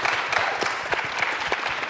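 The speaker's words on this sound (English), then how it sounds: "Round of applause for the Godfather" Applause from an audience at a Wildcat volleyball coaches' show, honouring Kevin Westhouse: a steady, dense wash of many hands clapping close by, with individual claps popping out of the crowd sound the whole way through.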